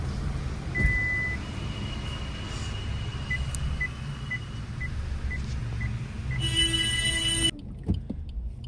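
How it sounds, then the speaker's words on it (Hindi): A vehicle turns around on a crowded road near the Mahunag temple in Shimla, with a steady electronic reversing beep repeating over a low engine idle, then ending in a brief higher whirr. "यहाँ पे थोड़ी मुश्किल तो है गाड़ी मोड़ना"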